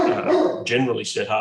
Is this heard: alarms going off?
no